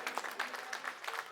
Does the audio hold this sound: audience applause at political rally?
yes